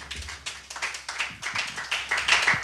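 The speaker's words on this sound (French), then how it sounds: "Est-ce qu'on peut acclamer pour eux?" A church congregation claps in a quick, uneven patter of many hands, fairly close and steady throughout, with faint voices mixed in but no clear cheering.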